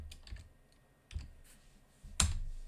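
Computer keyboard keys tapped in a few sparse bursts, a short cluster, a pause, then a sharper louder press near the end, close up with no talking.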